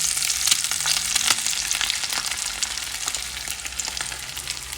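Steady, close sizzling of eggs frying in a pan, a dense crackling hiss with occasional sharper pops, continuous and fairly loud throughout.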